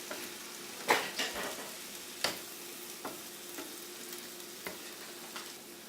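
A beef and rice filling with chilies sizzles in a pan while a spoon stirs it, a soft continuous frying hiss broken by several light scraping knocks, close and quiet with no voices.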